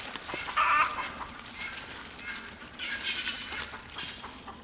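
Chickens cluck and murmur around a farm coop alongside roosters, scattered soft clucks and a brief louder squawk at close to moderate distance.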